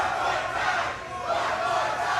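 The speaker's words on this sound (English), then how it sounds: "You heard the CCW faithful getting behind Braze" A wrestling crowd roars and chants steadily in support of the wrestler Braze at a live CCW show, a dense, sustained wash of cheering voices with no gaps.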